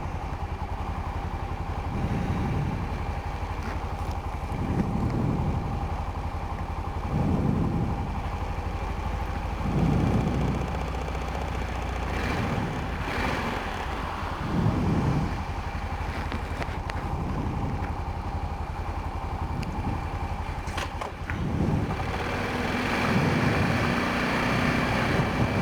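A Honda Rincon 650 ATV rides through a forest, its engine surging in repeated throttle bursts over a steady close drone, with wind noise and no talking.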